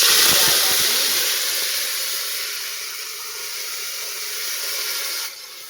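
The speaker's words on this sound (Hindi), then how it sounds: "अभी प्याज जैसे लाल होगा तब तक इसे भूनेंगे अच्छे से" Onions fry in a hot pan for a home-cooked Indian vegetable dish, giving a loud, steady hiss of sizzling that eases slightly and then cuts off near the end.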